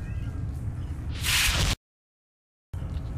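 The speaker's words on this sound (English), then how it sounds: "What's up, cat?" A cat in the game S.T.A.L.K.E.R.: Shadow of Chernobyl gives a short, loud meow over a low ambient game hum, followed by a sudden cut to silence before the background returns.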